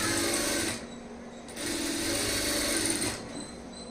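A sewing machine stitches blouse canvas for a high-neck blouse in two close, steady runs. A brief quieter pause separates the runs, and no voices are heard.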